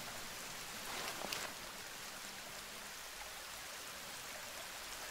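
Rain falls on the island in the survival game The Forest, a faint, steady wash of noise with a slight swell near the start and no talk.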